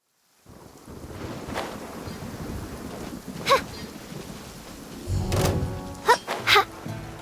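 Thunder in the Genshin Impact video game rolls in over a steady bed of wind and rain-like ambience, with a deep rumbling swell near the end and a few sharp cracks layered on top.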